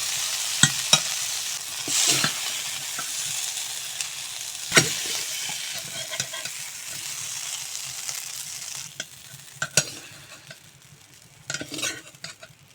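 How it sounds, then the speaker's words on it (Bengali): Sliced okra (bhindi) frying with a little salt in a pan, a bright continuous sizzle broken by sharp scrapes and clinks of a utensil, close up and without talk, the hiss thinning toward the end. "আমি এখানে ভেন্ডি বেজে নিয়েছি এখন নামিয়ে নেব"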